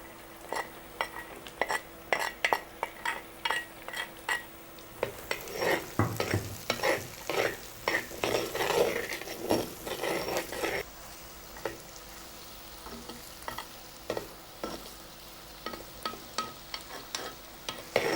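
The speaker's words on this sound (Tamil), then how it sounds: "இப்போ இந்த பரங்கிக்காயை ஒன்றா கொட்டி வதக்கணும்." Pumpkin pieces sautéed in a pan for a village-style pumpkin tamarind curry, with a steady run of sharp spatula scrapes and clinks against the metal over a low sizzle, busiest in the middle stretch, with no talking.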